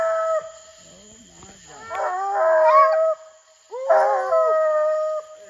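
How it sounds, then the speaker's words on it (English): Hunting dog baying at a treed raccoon at night, with long drawn-out howls in two or three bursts, fairly close and clear against a quiet background. "Wayne's dog tries to tell him he's got a coon"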